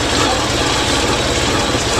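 Honda VFR1200 V4 motorcycle with an exhaust flap, its engine running loud and close with a steady rough mechanical churn and low rumble throughout, no voices over it.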